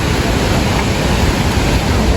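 Rushing water at a waterfall near Tarsus, a loud, steady, broadband roar that fills the whole moment without change, close to the microphone with no voices.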